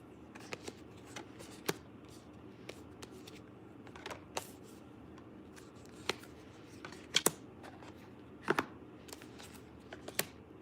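Tarot cards are handled and shuffled close up, giving soft riffling and scattered sharp snaps and flicks as cards are pulled and laid down, fairly quiet with no talking.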